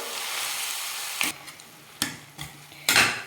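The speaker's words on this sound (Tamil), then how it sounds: "நம்ம கட் பண்ணி வச்சுருக்கிற கீரையை சேர்த்துக்கலாம் சேர்த்துட்டு நல்லா கலந்து விட்டுக்கலாம்" Chopped spinach being stirred in a frying pan: a steady sizzle runs throughout, broken by several distinct scrapes and clanks of the spoon against the pan, close and without speech.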